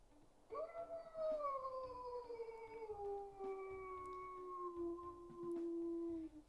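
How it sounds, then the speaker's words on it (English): A long, clear wolf howl from a WolfQuest video game character, rising then slowly falling in pitch over several seconds, a mid-toned sustained call with a second howling voice layered softly beneath. "And let's listen to his howls here."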